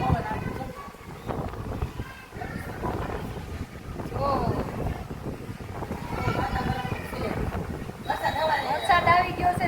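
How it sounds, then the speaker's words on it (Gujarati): Wind gusts buffet the microphone outdoors on what sounds like a ferry deck, a rough rushing noise running throughout beneath nearly constant conversation. "અહીંયા મસ્ત પવન આવે"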